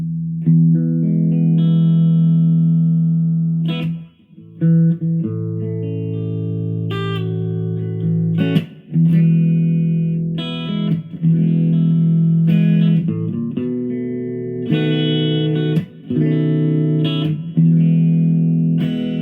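Electric guitar played through effects with the pickup selector between neck and bridge, sustained distorted chords and notes ringing with reverb, loud and close, with brief gaps between phrases.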